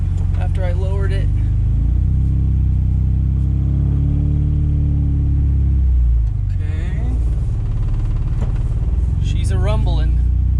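A rebuilt, lowered Honda Del Sol's B16 engine rumbles steadily at close range, running unhappily, with a low throaty idle and a couple of brief revs; someone talks over it.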